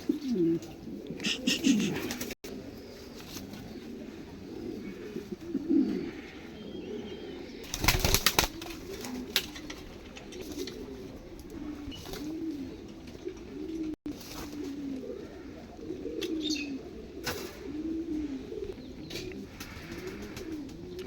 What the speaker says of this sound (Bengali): কিছু কবুতর ছাড়লাম কিং